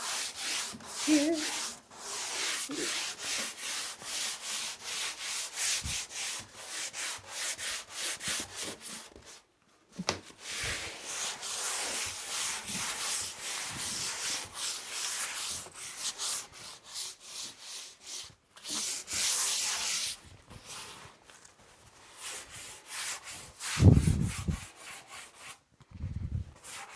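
A sanding block with sandpaper rubs back and forth across wood in quick, repetitive strokes, close and steady, with a few brief pauses and a faint bump along the way. There is almost no talk.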